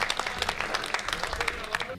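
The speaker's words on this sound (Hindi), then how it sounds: "एक बार सारा सदन जोरदार तालियां बजाए" An audience at a mushaira, a poetry gathering, applauding with dense, continuous clapping that swells and holds steady throughout, filling the hall.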